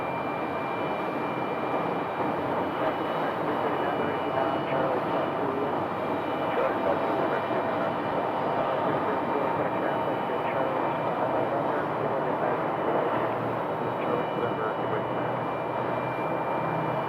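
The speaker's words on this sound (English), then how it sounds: "Long float on that landing." Airliner arriving from Everett, Washington, landing at Sky Harbor airport, a steady broad engine roar held at an even level throughout, with voices talking over the noise.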